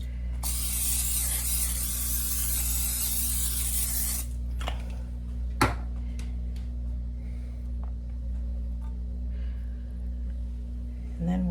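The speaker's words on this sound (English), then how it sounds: "I'm going to go ahead and spray that baking pan." Cooking spray hissing onto a baking pan in one steady burst of about four seconds, close and loud, followed by quiet kitchen handling with a few light clicks and knocks.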